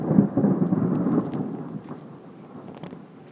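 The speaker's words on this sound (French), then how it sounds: "Il est flippant cet orage." A loud, close rumble of thunder from nearby lightning during a strong June thunderstorm in Amboise, France, rolls out and slowly fades over a few seconds, with rain hissing steadily underneath.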